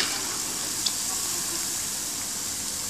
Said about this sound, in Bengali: এইভাবে বাকি পাকোড়াগুলো ভেজে নিব।